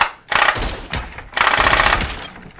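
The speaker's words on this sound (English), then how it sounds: "So here I'm going to test first a fully automatic rifle." Fully automatic rifle fire in a VR shooter played with a haptic rifle stock on a Meta Quest headset: two loud sustained bursts of rapid shots, the first about half a second long, the second longer, with a short pause between.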